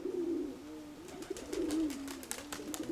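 A Crimean pigeon hen coos close by in a low, rolling, continuous call, while light clicks and fluttering taps join in during the second half.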